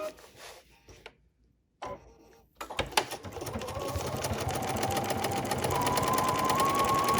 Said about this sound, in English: I'm sewing a lot faster than I did on that little tail.